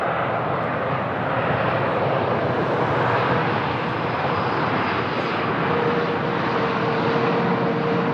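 A TAP Air Portugal airliner lands with a smoky touchdown at Lisbon Airport, its engines giving a loud, sustained roar that swells slightly and holds steady for the whole stretch, with no voices over it.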